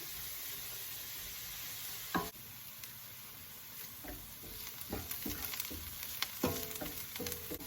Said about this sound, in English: To this I'm going to go ahead and add about half chopped onions. We'll cook this until it's fully golden brown.